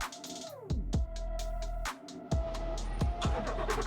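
A car engine roars loudly in repeated revving bursts with sharp surges, close by, with no talking.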